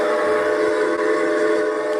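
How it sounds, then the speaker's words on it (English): Steady, loud, sustained train whistle tone with a continuous rushing hiss, holding constant for the whole two seconds. "This is supposed to be a train"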